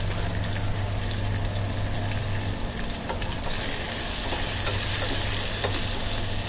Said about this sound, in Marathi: ड्राय फोडणी छान अशी खमंग परतली गेली पाहिजे.